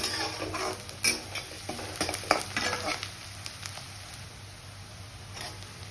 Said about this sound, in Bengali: আমি তার মধ্যে গোটা গরম মশলা, তেজপাতা, শুকনো লঙ্কা আর একটু জিরে ফোড়ন দিয়ে পেঁয়াজটা দিয়ে দিয়েছি